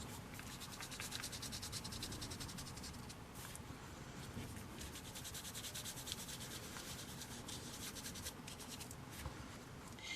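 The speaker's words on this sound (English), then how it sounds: "rub it over the swirls, and you're going to do that so that you've filled all the card with the metallic swirls" Gilding wax is rubbed over textured swirls on card, giving a steady, close, dry scratchy rubbing that continues throughout with no speech.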